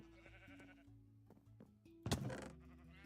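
Quiet video game sheep bleats repeat over a soft electronic tune, then a louder, brighter burst of sound near the end.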